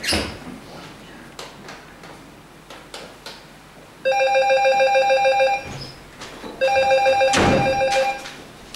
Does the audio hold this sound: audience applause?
no